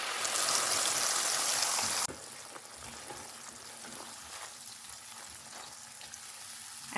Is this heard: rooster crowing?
no